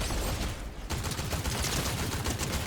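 Sustained rapid gunfire in a Fortnite Chapter 6 solo match, a loud continuous burst of shots running through nearly the whole moment with a brief dip early on, and no talking.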